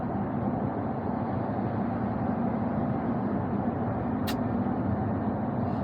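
Steady, continuous road rumble from a Toyota Hilux pickup truck cruising along, with a constant low engine and tire drone and one brief high click midway.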